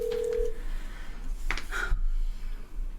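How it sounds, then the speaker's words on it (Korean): A telephone call is dialed, with a steady tone followed by a quick sequence of keypad beeps and the line connecting, heard over a quiet background. "전화 연결 한번"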